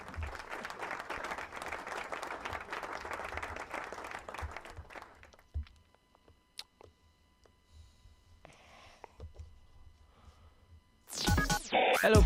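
An audience breaks into a dense, steady round of applause that fills the first five seconds and then stops. Scattered faint clicks follow in near quiet, and a loud, sharp burst of sound cuts in at the very end.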